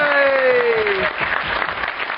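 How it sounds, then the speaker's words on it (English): An audience at a film festival screening claps steadily in a brief, fairly loud round of applause. A faint tone sweeps down at the start. "Please give her a round of applause"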